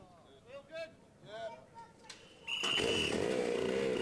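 Racing kart engines in a DRS125 heat fire up, a sudden loud high buzzing roar that swells in after a commentator speaks over quieter background.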